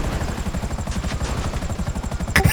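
Helicopter rotor in GTA V chopping steadily and loudly at close range, with a rapid even thump throughout and a sharp bang near the end.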